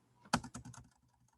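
Someone types code on a computer keyboard in a quick burst of about six close-miked keystrokes, led by one sharp louder clack, with a few softer taps trailing off.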